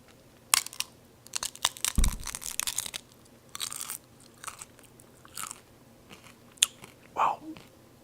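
A crunchy spaghetti taco is bitten with a sharp crackling snap, followed by a series of close, irregular crunching chews and small crackles fading in and out over several seconds.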